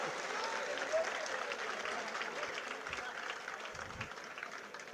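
Sustained applause from a large audience at a Jain religious sermon in Indore, steady dense clapping filling the whole stretch at even loudness with a faint murmur of voices beneath.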